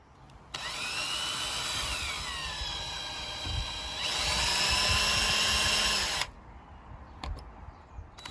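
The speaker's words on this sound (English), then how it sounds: "after a bit of drilling and a bit of hammering, I've got that off" A power drill whines loudly and steadily for several seconds, drilling into a variable-geometry turbocharger housing, shifting pitch partway through as it bites, then stops, leaving a few faint clicks.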